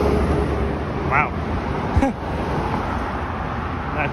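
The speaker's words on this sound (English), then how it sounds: "That truck was loud." A loud truck rumbles past in city traffic on Yonge Street in Toronto, swelling briefly near the middle with a sharp thump, over steady roadway noise and other passing vehicles.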